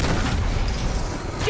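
Grenade explosion in the Uncharted 2: Among Thieves video game, a dense, sustained boom with broadband rumble filling the whole moment, loud and close.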